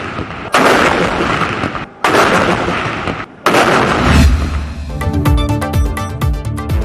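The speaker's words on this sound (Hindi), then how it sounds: "21 तोपों की सलामी से दिन का आगाज" Three heavy booming cannon blasts of a 21-gun salute in quick succession, each followed by a short gap, then a crackling, popping burst of rapid reports; loud and close, no talking; Eid Milad-un-Nabi celebrations in Pakistan.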